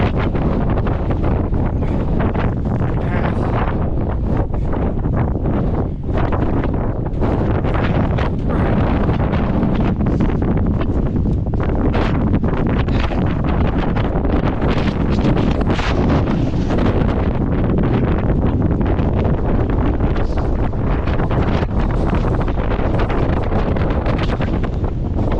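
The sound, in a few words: strong wind blowing across the microphone in snow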